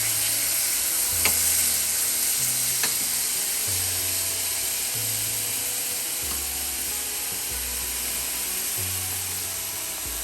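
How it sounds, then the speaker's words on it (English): Thin steaks sear in a hot pan with a constant, even sizzle and hiss. A low hum shifts in steps underneath, and a couple of faint ticks sound from the pan. "we're gonna wanna flip these as soon as we've got a pretty good sear on them."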